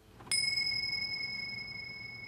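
A single bright strike of a small hand bell rings out and then lingers, fading slowly in a quiet room.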